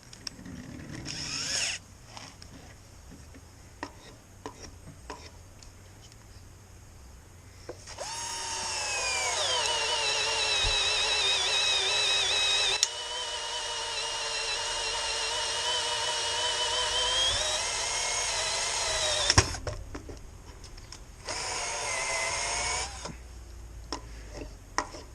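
A Holife 20V cordless drill at maximum speed driving a 1-inch speed bore through wood, a high whining motor with a grinding cut running for about twelve seconds between short bursts and pauses, close and clear.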